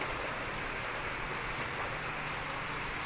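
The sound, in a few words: rain falling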